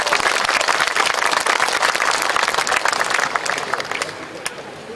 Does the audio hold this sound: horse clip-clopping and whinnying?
no